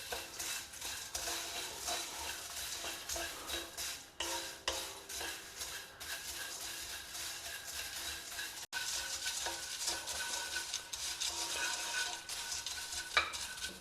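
Cornflakes are dry roasted and stirred in a pan with no oil, producing a quiet, continuous rustling scrape with soft irregular clinks as the flakes are turned over and over.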